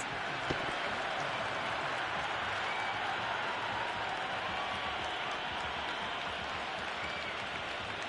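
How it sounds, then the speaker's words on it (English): A cricket stadium crowd in the video game Cricket 26 keeps up a broad, steady roar of cheering and clapping after a big hit, with one sharp knock early on. "all these spectators here today are completely enthralled and energised, judging by that noise anyway"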